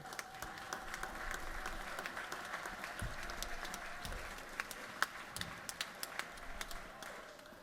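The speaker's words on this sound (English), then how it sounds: "So please give all of the members of that committee a good round of applause." Scattered applause from a room, soft continuous clapping with a few sharper individual claps standing out, fairly distant and quiet.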